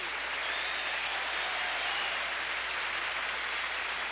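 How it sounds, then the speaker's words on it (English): Studio audience applause on a 1976 television game show, a steady dense wash of clapping held at even loudness for the whole stretch with no voices over it. "how about a big round of applause for Julia Colby?"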